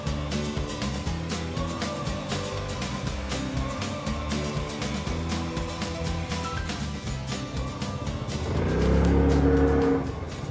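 A three-wheeled vehicle with a CVT automatic transmission drives along, its engine humming steadily with a rising drone near the end, heard up close without talk.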